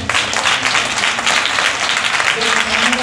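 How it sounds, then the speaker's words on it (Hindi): Loud, sustained applause from a church congregation fills the space steadily, with a few voices briefly audible over the clapping. "सर पाकरू के लिए जोरदार ताली है।"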